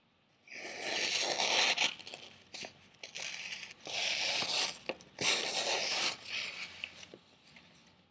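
A Fallkniven A1 knife, a hefty 12-ounce blade, draws slowly through material in several long, dry scraping and tearing strokes, close and fairly quiet, with short pauses between passes.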